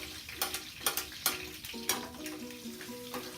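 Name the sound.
sautéing food in a pan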